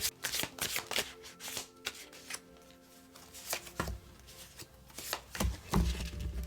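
Shadow work tarot-style cards shuffled and drawn by hand, giving a run of dry riffling flutters and soft slaps in irregular bursts, close and fairly loud with no talk.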